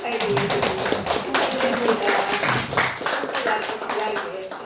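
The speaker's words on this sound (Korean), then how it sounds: "우리 크게 박수 치우며 축하드립니다." Church congregation clapping together in celebration, a steady run of many hands close by with faint voices underneath.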